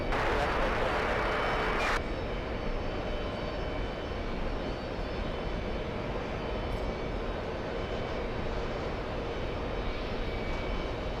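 Jet engines of an Emirates airliner on the runway give a loud, steady rushing roar that runs without a break, with a brighter hiss at the start that drops off after two seconds.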